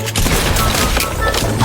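Gunfire rattles in a Fortnite match: a loud, dense fusillade of rapid shots crackles close by without pause for under two seconds.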